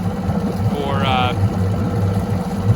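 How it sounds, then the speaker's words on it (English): A boat's outboard motor, an E-TEC G2 running a higher-RPM oil-mixture cycle, runs at a steady, elevated idle, a loud low throb with a brief whirring whine partway through. "You can hear that engine is running at a little bit higher RPM."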